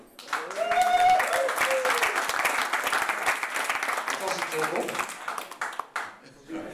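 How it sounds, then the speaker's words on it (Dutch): Audience applause at a soapbox derby gathering, a warm wash of clapping that swells and holds for several seconds before thinning out, with voices audible at the start and amid the clapping. "Dus ik zou daar een grote applaus voor doen."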